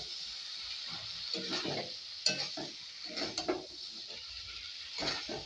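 A spoon scrapes and stirs a prawn and raw jackfruit curry as it sautés in a pan, with irregular clattering strokes over a faint, steady sizzle.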